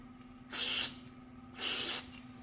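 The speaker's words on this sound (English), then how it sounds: "Get a straw on the carb spray and just spray it in these holes." Two short bursts of carburetor cleaner sprayed through a straw into a Yamaha SR250 carburetor, each about a third of a second, separated by a pause over a faint steady hum.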